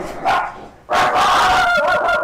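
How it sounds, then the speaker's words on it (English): A dog barks indoors at a neighbor walking their dog outside: one short bark followed by a longer run of loud, close barking and whining. "It's a neighbor walking their dog."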